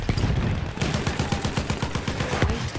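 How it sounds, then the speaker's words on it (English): Rapid, continuous gunfire and explosions from an enemy artillery barrage in the video game Battlefield 1, a dense string of sharp bursts roughly every tenth of a second over a rumbling low background, loud and close throughout. "Wait for the enemy artillery barrage to stop firing"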